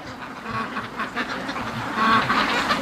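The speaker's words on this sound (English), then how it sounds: "they're just freaked out ducks" Free-range ducks quack in a noisy, overlapping chorus, with repeated nasal calls from several birds nearby that grow louder toward the end.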